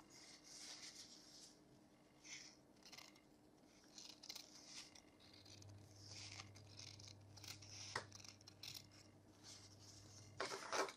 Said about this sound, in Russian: Я ее вот так вот вырезаю сразу же